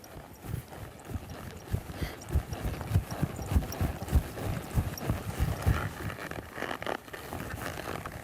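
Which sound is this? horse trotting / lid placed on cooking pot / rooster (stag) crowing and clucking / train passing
horse trotting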